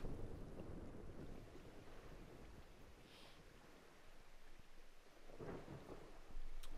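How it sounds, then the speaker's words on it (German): Rain, wind and rumbling thunder build a stormy soundscape at sea in the video game Diluvian Winds, with steady noise and a louder thunder swell near the end, fairly faint overall. "Es ist Gewitter auf hoher See. Kriegt ein bisschen mehr Gewittersound hier."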